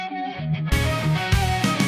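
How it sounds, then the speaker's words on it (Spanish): Lead guitar track isolated from a song mix by Moises AI, a brief quiet intro followed by dense distorted guitar notes and chords in a busy melodic line, loud and continuous with no voices. "También tenemos las guitarras solistas de arreglo."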